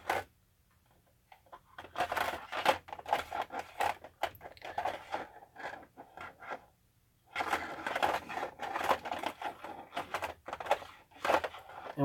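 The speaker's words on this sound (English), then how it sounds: "what you're hearing is the sound of me shuffling through my little fly bins" Small fly-tying bins are shuffled and rummaged through at close range, giving bursts of dense, rapid plastic clicks and rattles separated by a couple of brief quiet pauses.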